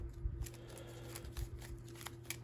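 A short, crisp riffle of cards being shuffled for a Transformers deck-building game, close and quiet with soft rapid flutters and taps.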